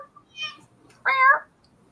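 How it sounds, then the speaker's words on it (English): A cat gives two short meows close by, a faint higher call followed by a louder, fuller one, in an otherwise quiet setting. "Got your cat meowing there."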